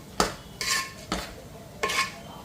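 A spoon scrapes and clatters against a pan as dry fruits are stirred into a syrupy boondi laddu mixture, in four distinct bursts of stirring with short quiet gaps between them, close and fairly loud.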